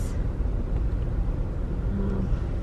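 Steady low rumble of road traffic near a bridge, cars idling and creeping in congestion at close range, a continuous engine drone with no talk.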